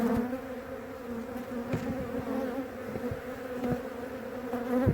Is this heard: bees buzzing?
yes